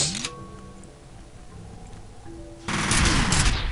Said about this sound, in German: Während ihr noch anfangt, die Waffe hochzuheben, bin ich schon am Abfeuern.